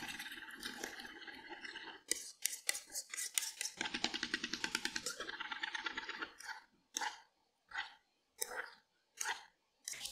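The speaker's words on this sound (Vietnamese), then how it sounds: "Giờ mình trộn các gia vị nêm nếm vào một cái chén nhỏ trước" A spoon clinks rapidly and rhythmically against a small bowl while mixing seasonings for Vietnamese shrimp and crab spring rolls, then slows to a few separate scrapes and taps, close and fairly quiet.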